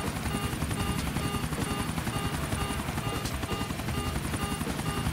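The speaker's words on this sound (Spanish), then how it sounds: "Vamos a buscar un spot, un punto para estacionar el helicóptero bien." Helicopter in GTA IV, a steady loud rotor thrum with a rapid, even chop filling the whole stretch, close and continuous, with faint talk underneath.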